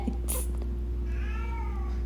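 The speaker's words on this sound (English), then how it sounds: "Can you hear my cat meowing?" A pet cat meows once, a clear drawn-out meow in the middle of a quiet indoor room with a low steady hum beneath it.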